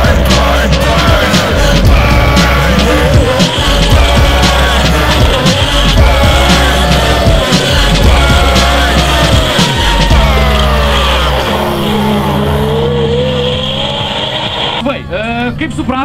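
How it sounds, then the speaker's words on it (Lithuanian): A car prepared for drift competition revs hard and slides, its tires squealing loudly and continuously. Voices talk over the engine noise throughout. "tavo automobilis yra ruoštas būtent drifto varžyboms"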